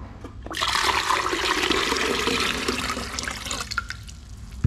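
Water gushes and splashes steadily for several seconds as it is poured, fairly loud and close, then tapers off.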